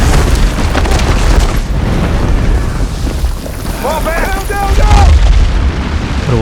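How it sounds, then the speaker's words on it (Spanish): A deafening explosion on a mountain top in an action film, heavy booming blasts and rumbling debris, with brief voices over the noise. "La cima de la montaña estalla con una explosión ensordecedora."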